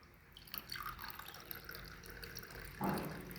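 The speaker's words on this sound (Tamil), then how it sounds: "இப்போ தண்ணி ஊற்றிக்கலாங்க." Water pours and trickles into a glass for a honey purity test, a soft continuous splashing stream that thickens into a fuller pour near the end, heard alone at close range.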